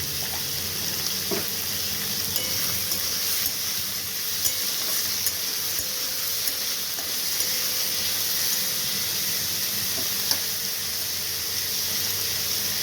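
Cauliflower stalks seasoned with a little salt and sugar fry in a pan, a steady close hiss and sizzle with occasional faint stirring clicks and no talking.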